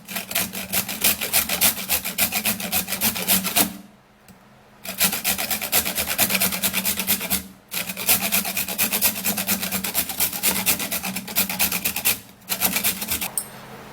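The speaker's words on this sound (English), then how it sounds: "I'm gonna be scraping this potash by using my grater to grate" A hard potash stone is scraped across a metal grater in steady, loud rasping strokes, repeated in long runs broken by three short pauses.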